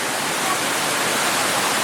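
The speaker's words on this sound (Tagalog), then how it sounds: "Ang sarap ng ulan sa probinsya." Rain in the countryside, a loud, even hiss of steady rainfall with no pauses or voices.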